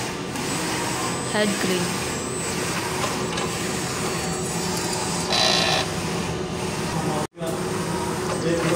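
A printer runs with a steady mechanical hum and whirring throughout while a person talks over it, with a brief full dropout near the end.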